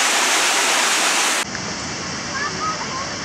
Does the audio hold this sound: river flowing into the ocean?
yes